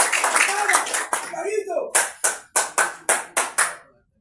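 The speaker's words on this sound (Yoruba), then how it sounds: "àtẹ́wọ́" An audience applauds at a gathering honouring a traditional Yoruba king, first as continuous clapping under talk, then as several distinct short bursts of claps in a steady rhythm before fading out.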